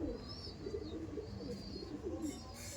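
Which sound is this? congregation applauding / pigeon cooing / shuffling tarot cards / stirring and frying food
pigeon cooing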